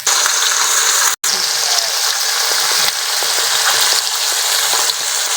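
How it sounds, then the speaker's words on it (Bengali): Amudi fish frying in hot oil, a loud, dense, continuous sizzle with a brief break and faint clicks of a utensil, no voices. "একটু কড়া করে ভাজতে হবে এবার বাকি মাছগুলো ভেজে নেব"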